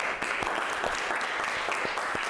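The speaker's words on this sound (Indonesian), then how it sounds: "semua kelompok sudah mempresentasikan hasilnya dengan baik. Beri aplaus" A school class applauds after group presentations, a steady patter of many hands clapping with a few sharper individual claps standing out, moderately loud in a room and not talked over.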